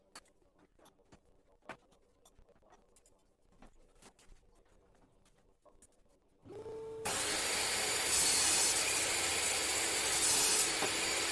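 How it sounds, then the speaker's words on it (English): A power saw cuts MDF into 6-inch pieces, kicking in abruptly partway through after quiet shop clatter, then running loud, steady and broadband close by to the end. "Now I shall cut two pieces of 6-inch length."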